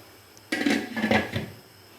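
A metal lid set down over a pan of frying green chicken hariyali curry: one clattering clink followed by a brief rattle of the lid settling, close and clear, with no talk.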